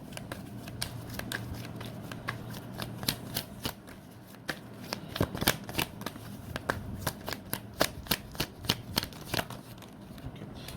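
Tarot cards riffle and slap steadily as a deck is shuffled by hand, close and clear, with a quick run of crisp card taps and flutters continuing throughout.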